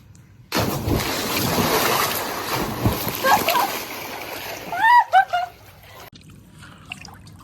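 People jump into the sea with loud, close splashes and churning water, while excited voices shout and call out around the plunges.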